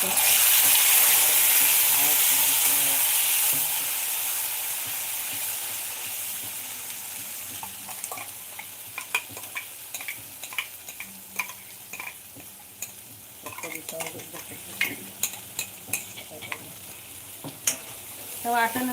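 Ground masala paste sizzles and sautés in a pan while matar paneer is prepared. A strong hiss fades over several seconds, then gives way to quieter frying with repeated scraping and stirring clicks of a spoon.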